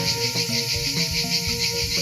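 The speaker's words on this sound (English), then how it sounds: "The noise you're hearing is from these insects called jinkal" Loud, continuous buzzing of cicadas on the Albanian coast, with a rapid pulsing shimmer that fills the air, steady throughout, with faint tones underneath.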